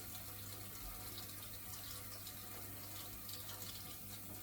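Water runs steadily from a tap over show exhibits being washed clean at a village agricultural show, a constant near splash and hiss with no talking.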